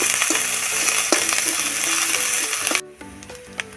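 Ginger frying in a small amount of oil in a wok, a steady bright sizzle with light scraping stirs that cuts off abruptly near the end, leaving faint clinks and a quieter hiss.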